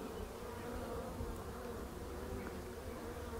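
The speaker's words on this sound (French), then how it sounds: "il y a quand même des abeilles avec du pollen qui rentrent" A dense, steady buzz of many honeybees at a hive entrance in February, some returning with pollen, droning without pause and with no voices.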